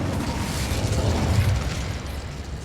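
An Incendio fire spell cast in the video game Hogwarts Legacy, a loud, dense whooshing roar of flame with a rumbling, crackling low end sustained for a few seconds.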